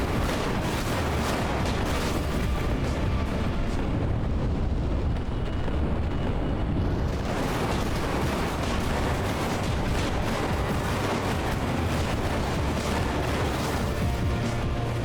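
Video game combat with a tank being blown up: a continuous barrage of heavy booms and explosive rumble, loud and dense throughout, with no voices on top.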